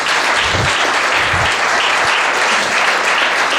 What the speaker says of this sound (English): Come on, let's give him a round of applause.